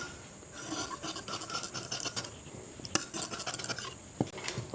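Scissors snipping through blouse lining fabric during tailoring, a dense run of close, rasping cuts with a few sharper clicks, no voices.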